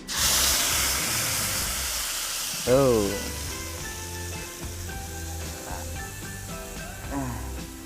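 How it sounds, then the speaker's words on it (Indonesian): Blended homemade spice paste poured into hot oil in a wok, a loud burst of hiss and sizzle that slowly settles into a steady frying crackle, with a voice talking over it. "Kita tuangkan ke kuali karena minyaknya sudah panas."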